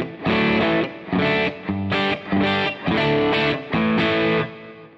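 Electric guitar on clean channel one of a Marshall Silver Jubilee Studio amp, strummed in a steady rhythm of repeated chord bursts with short gaps, loud and close with a touch of grit.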